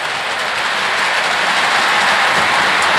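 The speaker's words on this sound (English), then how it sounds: "The train's going to go ahead and keep running." A LionChief steam model train keeps running after its remote is switched off, giving a loud, steady, close rolling rumble and rail clatter with a hissing wash that never lets up.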